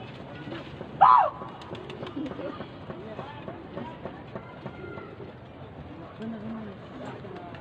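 Two pigeons chirp and coo briefly near the start, one sharp call standing out, over a steady rumble that may be a passing train and a continuous background of voices.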